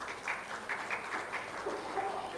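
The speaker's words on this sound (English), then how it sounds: "Could we have a round of applause," An audience at a battery technology summit gives moderate, steady applause to welcome a panelist. The clapping is somewhat distant, and a voice briefly rises over it near the end.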